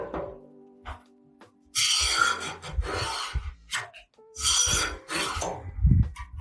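A line scribed with a square on a Jeep WJ fuel tank: close, loud scratchy rasping strokes in several bursts, with knocks and handling noises between them.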